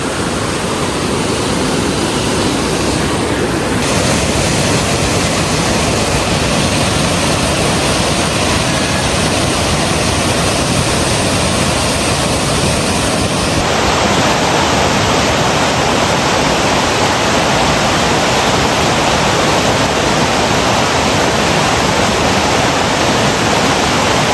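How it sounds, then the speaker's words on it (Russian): A waterfall in the Pyrenees mountains of Spain roars in a dense, continuous broadband rush, loud and close, with no voices and no break throughout. "вот этот вот чудесный водопад. Смотрите, как он шумит."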